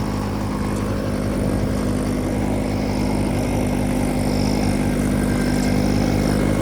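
Massey 9500 4WD tractor pulling a super seeder through heavy paddy straw, its diesel engine droning loud and steady throughout with a constant low rumble and no pauses or talk.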